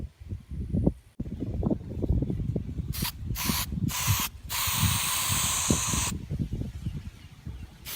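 Aerosol primer is sprayed onto a metal forge stand on wheels in short, loud hissing bursts with brief gaps between them, over a low background rumble.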